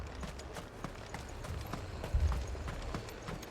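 Horse hooves clip-clop in a steady walking rhythm on hard ground in Final Fantasy 16, moderately close with a louder thud partway through, and no talk.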